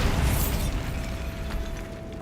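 A Bombarda explosion spell in Hogwarts Legacy goes off as a loud, booming blast with rumbling debris that decays over a couple of seconds, heard alone.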